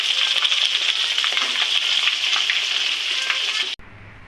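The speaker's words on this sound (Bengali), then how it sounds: "এখন লাল লাল করে ভেজে ফেলবো।" Egg chops deep frying in hot oil give a loud, steady, dense sizzle that runs unbroken for several seconds, then cuts off abruptly near the end.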